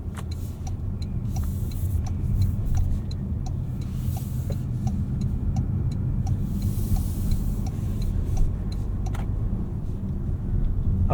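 A 2026 Toyota RAV4 GR Sport on the move, its steady low road and engine rumble filling the cabin evenly, with faint light ticks and clicks over the top and no voices.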